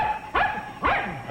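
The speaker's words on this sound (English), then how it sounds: "It's a brave dog." A dog barks twice, sharp and close, about half a second apart, over a low steady background hum.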